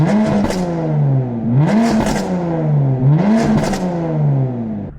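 A BMW F80 M3 with a flash-tuned exhaust in Sport mode revs three times, each rise sweeping up and falling back, with crackling burbles and pops trailing every rev, loud and close.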